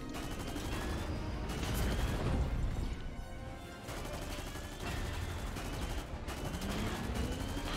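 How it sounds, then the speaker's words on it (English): Gunfire in Fortnite during the Chapter 3 Season 3 Collision live event, aimed at a robot: loud, continuous rapid shooting and booming impacts, layered with sweeping game effects throughout. "Oh shit, we're both shooting it."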